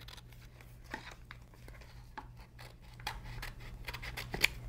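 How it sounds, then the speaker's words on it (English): Close, quiet snips of scissors trimming excess vinyl off a cut decal, a few separate cuts with light crinkling of the material between them. "I'm just going to cut that little excess off"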